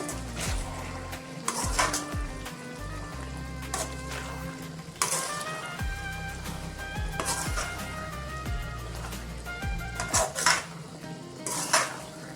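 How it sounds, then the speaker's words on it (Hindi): A metal spoon scrapes and clanks against a pan while jackfruit seed curry with green chilli and coriander is stirred, repeated rhythmic scraping over a soft sizzle. "अभी मैं अच्छे से मिक्स कर देंगे।"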